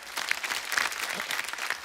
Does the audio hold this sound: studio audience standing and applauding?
yes